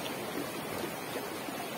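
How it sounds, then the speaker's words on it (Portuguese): Clear river water pours into a dam, a steady, even rushing hiss with no breaks or voices. "Só essa água caindo dentro da barragem"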